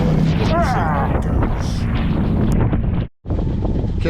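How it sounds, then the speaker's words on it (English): Strong wind blasts across the microphone while out sailing on a very windy day, a loud continuous roar with booming gusts, briefly cutting out near the end. "It turned out to be very windy when we got on board."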